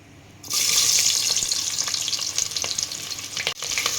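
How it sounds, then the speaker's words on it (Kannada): Onions hit hot oil with spluttering mustard seeds in a cooker, bursting into a sudden loud, bright sizzle that stays intense and crackling, with one brief dip near the end. "ಸಾಸಿವೆ ಇವಾಗ ಚಟಪಟ ಅಂದೈತೆ ಗೈಸ್ ಇವಾಗ ಈರುಳ್ಳಿ ಹಾಕೋಣ"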